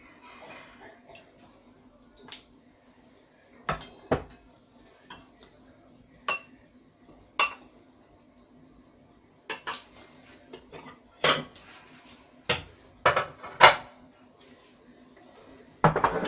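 Octopus legs are stirred in an oiled pan, with a utensil clinking and scraping against the metal in sparse, irregular taps and short bursts, close and fairly quiet, no talking.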